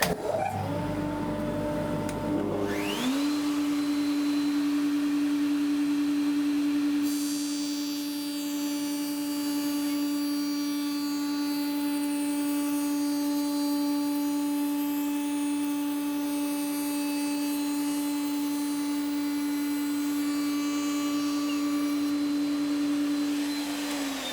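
Workshop vacuum dust extraction runs while a slot is cut: a motor spins up to a loud, steady whine that holds for over twenty seconds, with fluctuating cutting noise layered over it.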